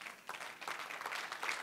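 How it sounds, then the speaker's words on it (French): A church congregation applauds, the dense patter of many hands heard at a moderate distance and fairly faint, continuous through the short moment. "Moi, j'aime cette Église-là qui applaudit."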